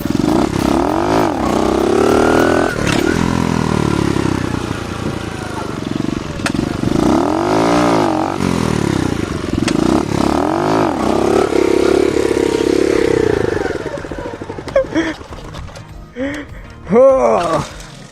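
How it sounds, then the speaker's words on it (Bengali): A motorcycle is revved hard in first gear during a wheelie attempt, its loud engine surging and falling in repeated rising pulls, with a few sharper blips near the end. "গিয়ার একটা দিয়ে নিচ্ছি দেখতে পাচ্ছ যদি হুইলি করা যায়"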